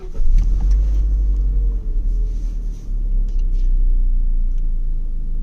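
A car engine idles and rumbles steadily during a test drive, a deep low drone with a brief swell near the start, close and loud, no talking.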